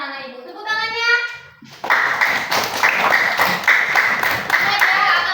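Classroom of young children clapping together on a teacher's cue, a dense run of close claps lasting several seconds after a brief stretch of speech.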